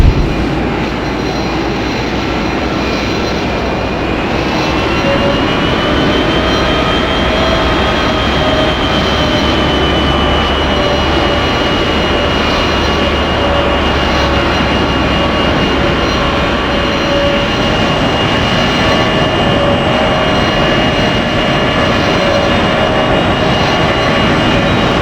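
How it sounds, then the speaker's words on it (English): A Captain Sim Boeing 767-300 jet engine spools up in the FSX flight simulator, a loud, continuous roar with a rising whine that climbs and then holds steady for the whole stretch, with no voices. "We're going to listen to an engine startup so you can see some of the high quality sound effects that come with Captain Sim's"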